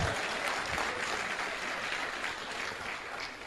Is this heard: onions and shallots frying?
no